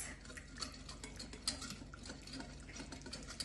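A mixture in a bowl, seasoned with freshly squeezed lemon juice, is stirred by hand, giving soft scraping and clinking strokes at a steady pace, fairly quiet and close, with no talk.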